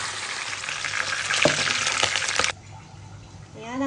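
Galunggong fish (round scad) frying in a pan crackles in a loud, dense sizzle for about two and a half seconds, then drops abruptly to a faint low hiss.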